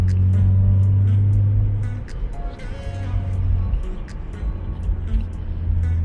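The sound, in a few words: BMW E36 M3 engine with Injen intake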